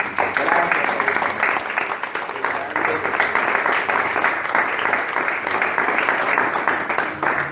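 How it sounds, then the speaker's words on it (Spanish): A church congregation claps during an evening worship service, dense continuous applause from many people nearby, with voices mixed in. "Demos un aplauso al Rey de Reyes."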